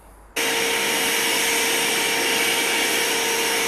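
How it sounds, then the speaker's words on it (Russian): Vacuum cleaner clearing dust from a window opening during a PVC window installation in an apartment, switching on abruptly and then holding a loud, steady whining roar with no talk. "Пропылесосим слегка, чтобы лишняя пыль ушла."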